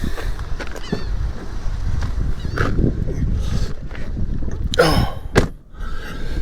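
Cold wind buffets the Rockport waterfront with a continuous low rumbling roar, and a man's brief exclamations and scattered bumps rise above it.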